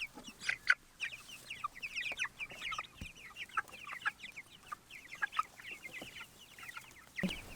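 Meat chickens, including young roosters, cluck and chatter in quick, irregular bursts close by, a busy flock with no talking over them.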